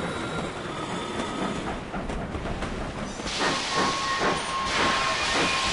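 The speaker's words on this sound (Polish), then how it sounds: "jak dojedzie ten pociąg nasz" Steam train pulling in within the railway game Sid Meier's Railroads!, a steady loud hiss of steam with rhythmic chuffing bursts that grow stronger and a brief whistle tone near the end, no voices.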